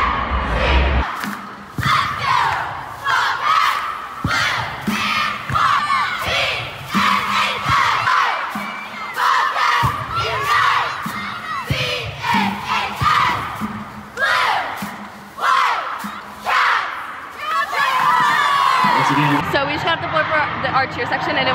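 A high school cheer section performing at a state competition, loud rhythmic group shouts and chants from a crowd, with cheering and thumps throughout.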